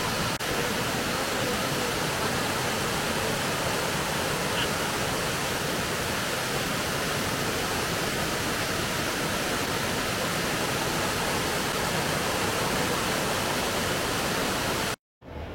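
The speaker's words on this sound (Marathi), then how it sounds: "हा बघा सुंदर असा हा पडेकाप धबधबा." Padekap waterfall near Chindar in Kokan roars with rushing water, a loud, constant, close wash of noise that holds steady throughout before cutting off abruptly near the end.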